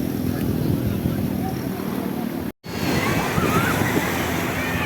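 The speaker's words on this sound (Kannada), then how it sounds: "ಒಂದಕ್ಕಿಂತ ಒಂದು ದೊಡ್ಡ ಅಲೆ ಬರ್ತಾ ಇದೆ ಗೊತ್ತಾ ಈಗ ನೋಡಿ ಎಷ್ಟು ದೊಡ್ಡ ದೊಡ್ಡ ಅಲೆ" Large sea waves surge and break on Diu beach as a steady, loud wash of surf fills the clip, interrupted by a brief dropout in the middle, with no clear talk.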